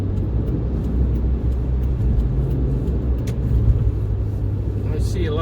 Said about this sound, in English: Look at this morning traffic.